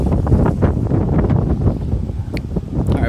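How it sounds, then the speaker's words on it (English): Wind blows outdoors in strong, buffeting gusts against the microphone, a loud rough roar that rises and falls throughout. "wind's picking up"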